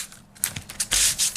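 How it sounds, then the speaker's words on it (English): Embossed cardstock is sanded with a sanding block, giving close, rough, scratchy rubbing strokes in quick uneven bursts with short pauses between. "firmly add pressure and sand the image, and it will start to reveal the core of the cardstock"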